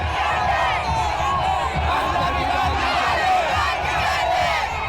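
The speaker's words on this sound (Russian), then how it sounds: "Когда Пехлеви вышел на сцену, люди встретили его бурными аплодисментами." A rally crowd greets Reza Pahlavi with loud, sustained cheering and shouting, a dense wall of voices that holds steady throughout with no distinct speech.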